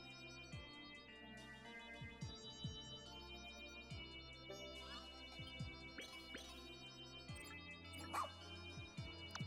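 In the Pikmin 4 video game, a creature gives a few short yipping dog barks over continuous game music and effects.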